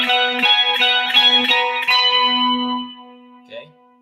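An electric guitar plays a quick Ionian mode scale run through effects. A string of bright picked notes rings out, then the last note sustains and fades with a shimmering, echoing tail.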